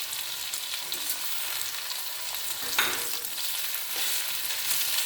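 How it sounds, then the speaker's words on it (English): Steady, close sizzling of jackfruit masala frying in a pan over high flame, a continuous hiss with occasional louder crackles and stirring. "Then keep it on high flame and then still fry for another 5 minutes."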